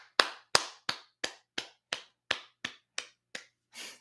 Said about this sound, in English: Everyone, round of applause for Jason and the generous super chat.